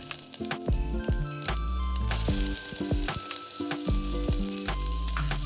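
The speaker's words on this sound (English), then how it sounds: "Now add 7 to 8 cloves of chopped garlic and 1 small onion." Seven or eight cloves of chopped garlic and a small onion sauté in a pan with spices, making a steady, close sizzle that thickens partway through, with background music playing.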